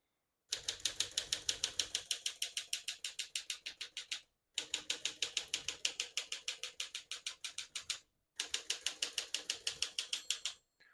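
Rapid mechanical clacking of a 1956 Smith-Corona Silent-Super manual portable typewriter in three bursts of steady keystrokes, separated by short pauses.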